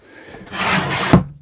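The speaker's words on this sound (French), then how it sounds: "fermeture par porte coulissante" Sliding door on a teardrop trailer closing, a wooden rolling rub building for about a second and ending in a short knock as it shuts, close and fairly loud.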